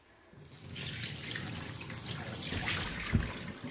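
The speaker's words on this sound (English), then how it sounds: "You watching the water go out?" Water pours out of a bucket, emptied after hand-washing cloth diapers, a close steady splashing gush that builds over a few seconds with a small drip-like knock near the end.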